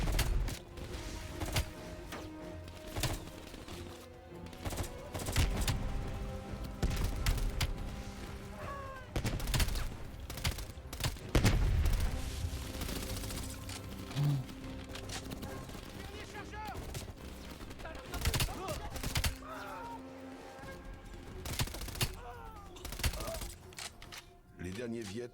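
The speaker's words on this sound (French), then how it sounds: "du coup je tire en rafale depuis tout à l'heure" Burst gunfire from a weapon in a video game, short rapid volleys popping repeatedly across the clip amid game sounds, with a voice talking over much of it.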